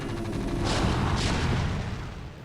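Arclight siege tanks in StarCraft: Brood War fire artillery in a deep, rumbling barrage, with two or three heavy booms rolling together across a dense, loud bed of blasts and no voices.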